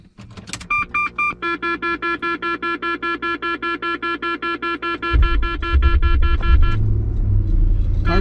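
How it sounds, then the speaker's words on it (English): A car's engine cranks with a rapid, regular starter whir for several seconds, then catches and settles into a loud, steady idle rumble close by, while a rhythmic electronic chime pulses through the cranking. "Car starts fine."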